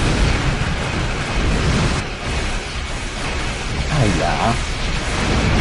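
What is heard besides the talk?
torpedo explosions in a video game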